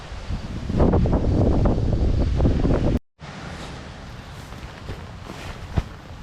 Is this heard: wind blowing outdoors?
yes